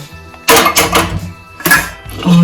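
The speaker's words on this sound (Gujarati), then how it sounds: "ગેસ ઓન કરીશું" Sharp clicking and ratcheting bursts sound close up as a gas stove knob is turned and its igniter sparks, in two short clusters.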